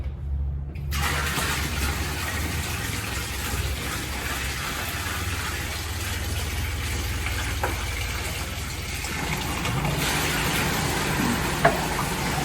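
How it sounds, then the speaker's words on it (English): A sump pump kicks on with a steady rushing, watery drone that continues loudly and evenly throughout. "as you can hear, the sump pump did kick on"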